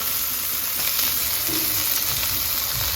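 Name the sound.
tengra fish frying in a pan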